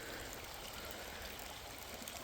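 A small creek running high and flooded after heavy rain, with a steady, dense rush of flowing water that fills the whole clip at an even level and has no voices over it.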